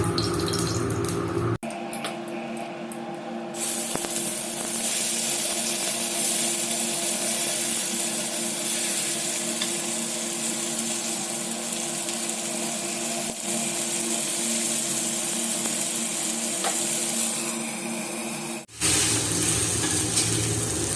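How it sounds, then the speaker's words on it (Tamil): Fish coated in homemade masala frying in hot oil, a loud, continuous sizzle that fills the whole stretch, with a brief break and a sharp clatter near the start and end. "இதே மாதிரியே எல்லா மீனையும் பொரிச்சுக்கலாங்க"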